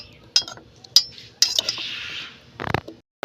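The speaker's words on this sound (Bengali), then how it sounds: "চামচের সাহায্যে এবার এটাকে নাড়াচাড়া করবো" A metal spoon clinks and scrapes against a bowl of soap base set over hot water, with three sharp taps followed by a longer scraping stir, close and clear with no talk.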